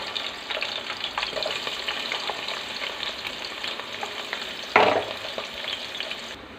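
Onions frying in a pan with green chilies, a steady crackling sizzle with a louder scrape or clatter of a spatula near the end as the mixture is stirred.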